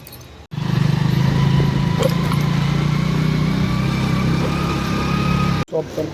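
A motorcycle engine runs with a steady, loud idling drone close by for several seconds, cutting off abruptly at the end.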